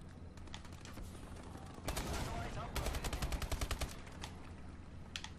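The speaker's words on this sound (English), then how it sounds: "he was shooting at the other guy and killed me" Gunfire in the Advanced Warfare video game on Xbox One, an Uplink match, comes as rapid bursts of automatic shots, the densest in the middle, over constant game noise.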